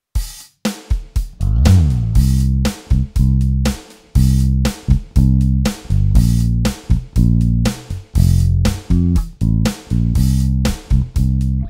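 A punchy bass line plays short notes in a steady groove, breaking off in regular gaps where sharp drum hits land. Loud, no voices.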